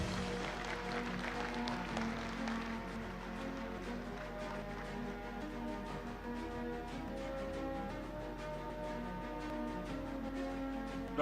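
Applause fills the hall at a Vydehi Group of Institutions graduation ceremony, a sustained patter of many hands clapping at moderate volume over soft background music.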